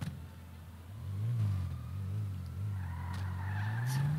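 A car in a video game pulls away and skids, its engine revving up as the tires squeal. The sound is continuous and fairly loud, with no talk over it.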